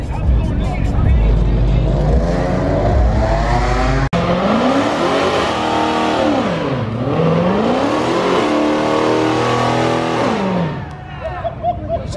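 Dodge Hellcat engine revving hard at a street car takeover, loud and close, its pitch climbing and falling in long sweeps over a constant crowd roar, with people talking and shouting throughout.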